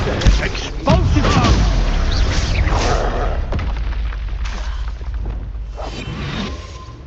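Spell explosions from Hogwarts Legacy, a video game, boom loudly in a dense rapid barrage with whooshing bursts, continuous and close over several seconds.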